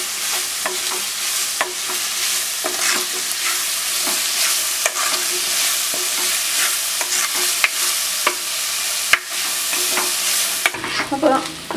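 Onions sautéing in a pan for chicken curry, a continuous bright sizzle with repeated spoon scrapes and taps as they are stirred, close and loud, no talking.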